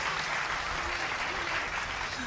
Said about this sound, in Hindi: एक बार ताली साहब बजा दो